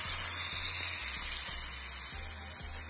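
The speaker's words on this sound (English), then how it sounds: "Now, you know, frying fish, you got to make sure that it's right." King fish frying in a pot, a steady loud sizzle and hiss of hot oil throughout with a few soft bumps underneath, no talking.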